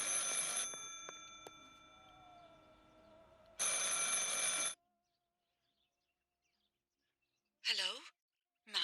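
A house telephone in the video game Martha Is Dead rings loudly in two separate bursts of bright, electronic trilling, with near-silence between them, before a brief different chirp near the end.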